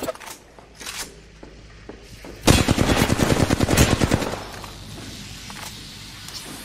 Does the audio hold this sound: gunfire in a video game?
yes